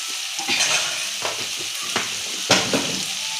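Spices frying and being stirred in a pan for homemade egg fried rice, a steady sizzle with several sharper scraping stir strokes, close and alone.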